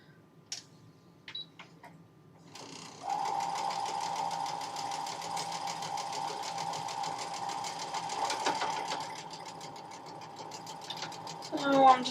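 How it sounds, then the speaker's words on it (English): A sewing machine stitches quilt fabric pieces together: a few light taps, then a fast, even run of needle clatter for about nine seconds, close and steady. "So I'm just going to sew these pieces up together now."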